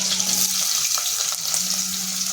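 Green chili and garlic fry in hot oil with a loud, dense, continuous crackling sizzle and faint stirring taps, close and steady with no voices.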